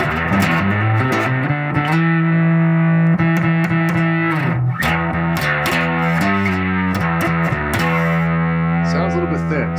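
Electric guitar driven through an Ashdown Geezer Butler Pedal of Doom distortion with the bass EQ cut, loud, sustained fuzzy chords and riffs with thinned low end, ringing with a bright, saturated edge.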